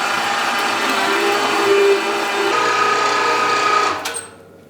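A 1.5 horsepower electric meat grinder grinds brisket for sausage with a loud, steady motor hum that runs continuously, then winds down and stops near the end.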